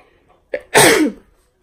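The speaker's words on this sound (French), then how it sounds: "J'ai envie d'éternuer." One close, loud sneeze from a young woman at home, a short indrawn catch followed by a forceful burst lasting about half a second, with nothing else around it.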